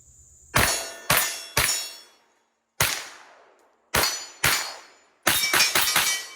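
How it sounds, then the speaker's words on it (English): A custom V12 ported Bul SAS Tac 4.25 pistol from South West Precision Arms fires 124-grain HST +P rounds: about eleven sharp, loud shots with ringing tails, first spaced singly, then in quick strings. "I'm going to go ahead and insert a clip of me shooting this"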